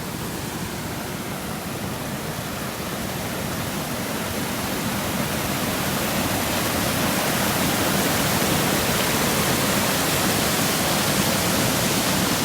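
Floodwater after heavy rain surges through the Hazara cemetery, a loud, steady, broadband rush like a torrent or waterfall that holds unbroken and grows slightly stronger, with no voices.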